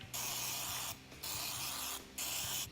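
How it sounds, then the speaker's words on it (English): A Misto sprayer mists olive oil onto slices of Italian bread in three short hissing bursts, close up and separated by brief pauses. "this is just a misto, and you'll just want to spray it on top of the bread"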